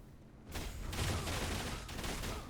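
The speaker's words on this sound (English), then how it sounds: "I actually like when the skill burst effect triggers." A skill burst effect in the video game Torchlight: Infinite sets off a dense, roaring explosion with crackling rapid-fire bursts that swells after a quiet start and holds for about two seconds, with no talk.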